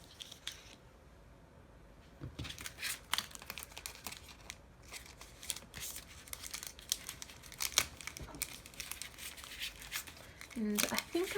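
Scraps of patterned craft paper are handled at a desk, giving irregular bursts of crinkling and rustling, close and moderately loud, with a brief pause in the middle.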